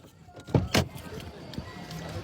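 A car door thunks shut twice in quick succession as someone climbs out of the vehicle, followed by a softer knock a moment later, with a quiet background hum.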